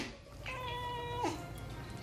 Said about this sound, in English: We have a cat who magically replies to everything you say.